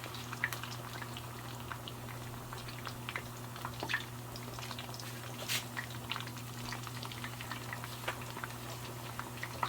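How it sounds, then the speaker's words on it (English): Oil sizzles and crackles steadily in a pan as shrimp shallow-fry, with dense popping and spitting over a low constant hum, close and continuous. "what we are doing here is literally shallow frying"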